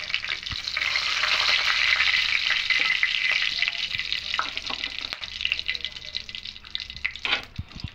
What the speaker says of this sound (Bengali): এবার এই তেলের মধ্যে গোটা গরম মশলা দেব, দারুচিনি, এলাচ আর লবঙ্গ